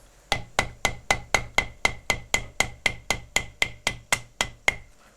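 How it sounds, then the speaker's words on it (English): Hammer tapping a Porsche 911SC brake caliper piston to turn it, about fifteen crisp ringing metallic strikes at an even pace, close and loud, each with a short decaying ring. "I'm going to have to tap this piston around"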